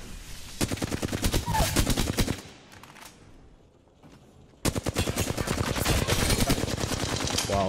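Rapid bursts of Flatline rifle fire in a first-person shooter game, loud and near, two long volleys separated by a short quieter gap.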